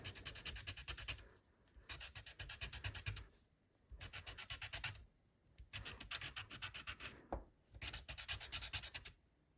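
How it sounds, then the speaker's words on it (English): Fine sandpaper rasps against soft pastel colour in four bursts of quick, rhythmic rubbing strokes, each lasting a second or two and separated by short pauses, close and fairly loud with no talking. "to clean off the colour you will need some fine sandpaper"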